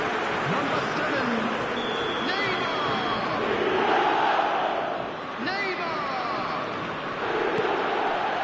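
Stadium crowd chanting and roaring through a PS4 football video game match, a steady dense wall of massed voices with swells and dips, continuous and moderately loud.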